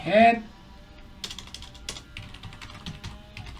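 Keys tapped on a computer keyboard in quick uneven bursts, close and fairly quiet, after a short spoken word at the start.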